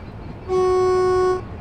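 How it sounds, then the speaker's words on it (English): A train horn sounding in Train Sim World on a Great Western Express route, one steady clear tone held for about a second, loud and close, with no talking. "Beeping me little horn."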